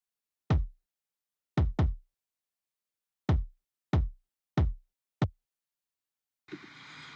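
Six punchy layered kick drum hits with reduced low end and boosted mid-highs, sharp attacks and quick decays, in a loose pattern with silence between them, followed by a faint noisy tail.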